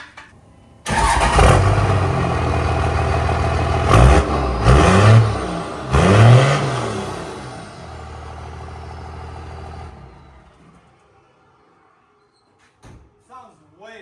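A 2nd gen Cummins diesel truck fitted with a smaller exhaust tip cranks to life and revs several times, loud and close, then settles to idle and fades; voices talk briefly near the end.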